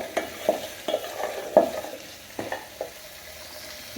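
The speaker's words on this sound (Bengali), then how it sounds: "তেল দিয়ে একটু ভেজে নেব" Eggplant, potato and taro pieces fry in oil for a taro and prawn curry, a moderate sizzle broken by repeated clattering stirs of a spatula against the pan at an uneven rhythm.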